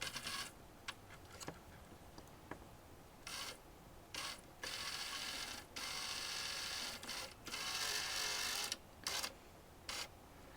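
A Roborock robot vacuum motor on a bench test buzzes in short bursts, repeatedly cutting out and restarting through a poor electrical contact, giving an irregular on-off whirring pattern, close by and fairly quiet.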